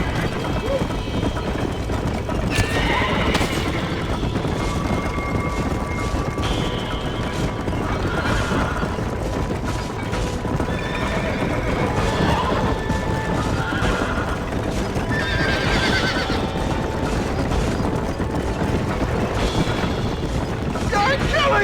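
A horse in Red Dead Redemption gallops with continuous hoofbeats and whinnies several times, while game voices talk over the steady clatter and ambient noise.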